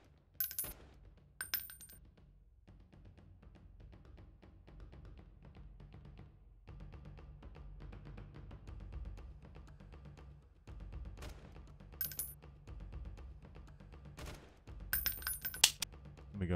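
Gunfire in the video game Freeman: Guerrilla Warfare comes as scattered single rifle shots at long range. Sharp isolated cracks stand out over a low, steady game ambience.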